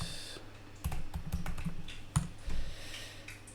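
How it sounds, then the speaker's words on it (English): Keys clatter on a computer keyboard during a Kubernetes lab, close up and moderately loud, in short irregular bursts of clicks with brief pauses between. "I typed wrongly here"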